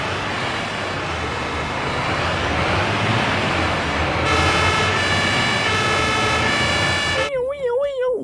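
A toy siren wails with a wavering electronic tone near the end, after a stretch of noisy background clatter.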